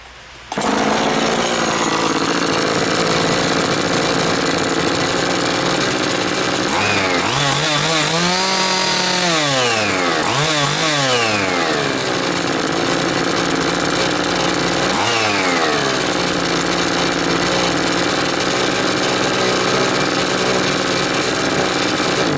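An Oleo-Mac chainsaw engine runs after a carburetor replacement, loud and close, with a steady buzzing idle. It revs up sharply several times into a high whine, then drops back each time.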